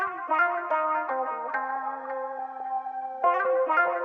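A soft synth pad holds sustained harmonic chords across a beat's empty bar, washed in chorus and echo, steady and fairly quiet with a swell near the end, no voices.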